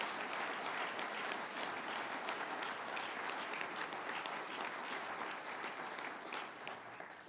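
Steady applause from an audience at the Nano Utica announcement event at SUNY IT in Utica, welcoming President Armbrust and Dr. Hector de Jesus Ruiz; dense, continuous clapping throughout, tapering slightly at the end, with no talk over it.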